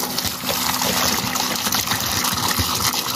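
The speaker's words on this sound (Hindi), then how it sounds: "पानी लेके अभी इसमें डालेंगे" Water is poured into a hole in a continuous splashing gush that stays close and fairly loud throughout, with no talking over it.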